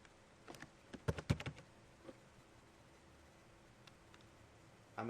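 A computer keyboard is typed on in a short, quick burst of close, soft clicks, followed by a couple of isolated taps in near silence.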